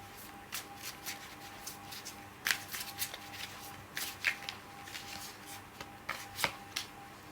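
Tarot cards being shuffled and drawn by hand, a run of crisp papery riffles and slaps with several sharper snaps, close and fairly quiet, with no one talking.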